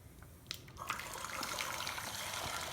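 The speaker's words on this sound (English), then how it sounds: "I'm gonna add this boiling hot water." Boiling hot water poured into a pot to set up a double boiler for chocolate candy, a steady splashing rush that begins after a brief clink and runs on, close and fairly loud.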